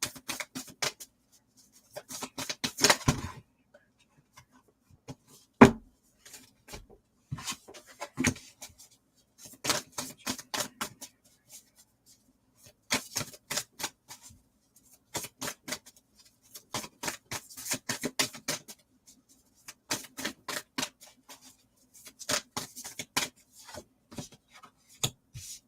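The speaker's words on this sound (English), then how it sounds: "I'll keep shuffling and we'll see," A tarot card deck is shuffled on a table in repeated bursts of crisp riffling and flicking, with short pauses and a few sharp taps between rounds, close and clear with no talking.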